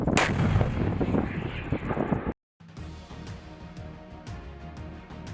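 A French Caesar 155mm self-propelled howitzer fires with a loud, heavy blast that booms and rumbles, then a moment of silence, followed by a rougher, lower rumble of continued firing and distant reverberation.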